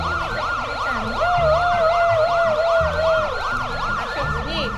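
A voice imitates a wailing emergency siren, looping up and down in steady cycles. A sustained tone runs beneath it, and the sound is loud and close.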